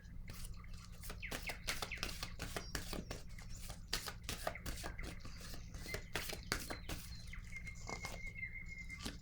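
Tarot cards being shuffled and drawn: a quiet series of sharp, rapid card flicks and slaps, close and dry over a low steady hum.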